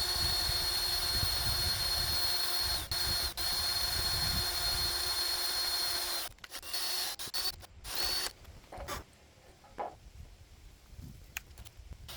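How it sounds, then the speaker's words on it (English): A hand drill bores a hole in a steel trailer with a steady whir for about six seconds, then stops, leaving scattered clicks and handling noises. "then hand drill this hole, and then use a high-speed tap"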